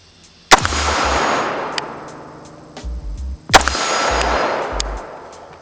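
Two loud gunshots from a BCM RECCE-11 pistol fired at an outdoor range, each a sharp crack followed by a long rolling echo, about three seconds apart, with no talking.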